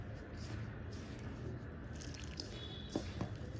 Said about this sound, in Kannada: ಈಗ ಇದಕ್ಕೆ ಸ್ವಲ್ಪನೇ ನೀರು ಹಾಕ್ಕೊಂಡು ಕಲಿಸ್ಕೋಬೇಕು